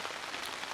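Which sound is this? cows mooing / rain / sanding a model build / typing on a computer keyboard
rain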